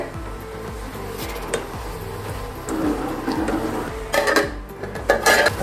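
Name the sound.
lid opened and spinach greens stirred in cooking pot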